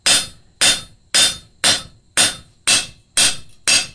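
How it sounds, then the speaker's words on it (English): Flat face of a blacksmith's hammer striking hot metal to planish out hammer marks, eight sharp ringing blows at an even, unhurried rhythm, close and loud with no voices. "we're going to flip it over to the flat face of the hammer, and we're going to dress out"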